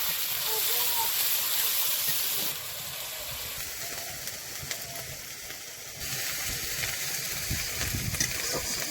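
Onion paste and cumin paste fry in hot oil with snakehead fish for a light village fish curry, giving a loud, continuous sizzle and hiss that drops briefly in level midway, then returns.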